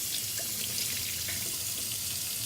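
Hot water runs steadily from a faucet into a stainless steel top-mount sink, a continuous even hiss and splash, fairly soft with no talking.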